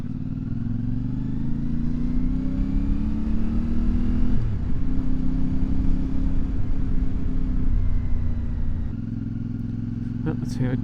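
A CFMoto 450MT motorcycle engine pulls hard on a test ride, its loud, close droning note climbing in pitch, dropping at a gear change, then rising again under steady wind rumble.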